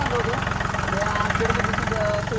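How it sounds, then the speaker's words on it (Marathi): A tractor engine idles loudly and close by with a steady, rumbling chug that holds evenly throughout. "आपण आता ट्रॅक्टर आणलाय"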